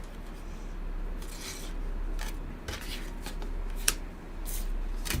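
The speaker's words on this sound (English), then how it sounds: "very quickly shuffle. These are just affirmation cards." Hand-shuffled affirmation cards give a few soft, brief riffling and rubbing bursts. They are quiet and close, set against a low steady background with no talking.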